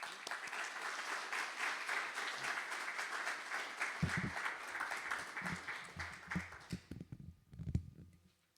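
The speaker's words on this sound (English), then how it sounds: "Please welcome him with a big applause." Audience applause welcoming a speaker at a World Children's Day event in Champagne Hall: dense, steady clapping fills the first few seconds, then thins and fades as a voice begins speaking.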